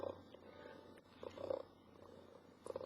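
A cat purrs softly and steadily, close by, with faint rhythmic pulses over a low background hum and no talking.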